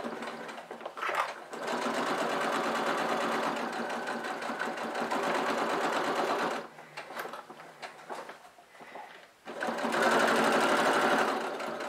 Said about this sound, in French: je vais pouvoir faire une couture au point droit à l'aide de mon pied à fermeture éclair